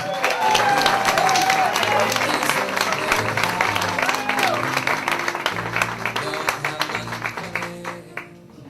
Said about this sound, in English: A big round of applause for Carli Carter.